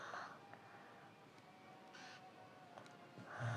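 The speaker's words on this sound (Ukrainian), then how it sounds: "Но є ворона." A crow caws in a Roblox video game, with several short caws spaced across a quiet, faint background.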